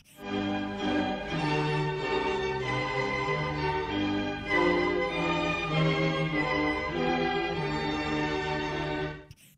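The national anthem of Andorra plays on orchestra with full brass and strings in a steady, stately melody, moderately loud and without voices.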